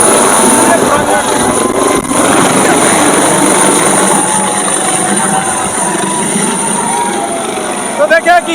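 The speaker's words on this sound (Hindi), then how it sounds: "देखें कि हेलीकॉप्टर पूरा लैंड कर चुका" A helicopter touching down at a crowded rally ground, kicking up dust, its loud continuous rotor and engine roar filling the whole stretch while a voice talks over it.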